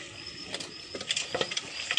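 Soft clinks and scraping of a pot lid and spoon stirring khichuri of rice and lentils, a run of small irregular knocks and rattles, close and fairly quiet, with no talking.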